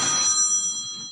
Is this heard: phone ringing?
yes